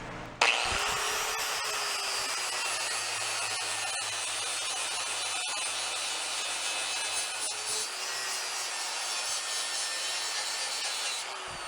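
Grinder working down the rotted, lipped end of an old exhaust pipe on a Honda Trail 90 motorcycle, a steady loud high-pitched whine that runs unbroken for about eleven seconds with no talking.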